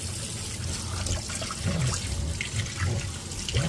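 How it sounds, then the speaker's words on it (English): Tap water runs steadily into a sink while a whole duck is rinsed before barbecuing for Thanksgiving, a continuous close splashing with uneven gurgles as the water hits the bird. "we're gonna rinse it off"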